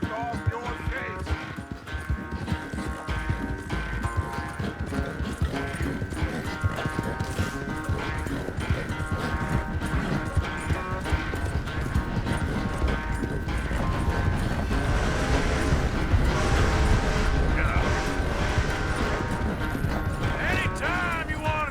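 Horse hooves clip-clop in a steady rhythm while riding in Red Dead Redemption 2, accompanied by creaking tack and game ambience, with characters talking over the hoofbeats throughout.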